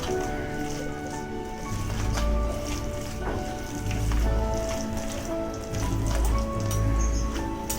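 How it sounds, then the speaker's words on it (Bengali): Fish curry ingredients squished and mixed by hand in a bowl for Bengali macher jhal, wet squelching and slapping in irregular bursts, close and fairly quiet. "এটা আমি হাতে করেই মেখে নেব চামচে করে ভালো করে মাখা যাচ্ছে না"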